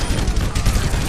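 Rapid gunfire in a video game strikes a wall in a dense, loud burst of overlapping shots that runs through the whole moment with no pauses.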